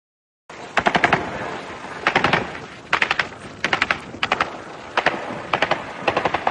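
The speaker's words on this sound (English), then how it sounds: "they seem to me like they're trying to take it down with small arms fire" Small arms fire aimed at a drone crackles in repeated short bursts of rapid shots, each volley a tight cluster of sharp reports separated by brief pauses, fairly loud and without talk.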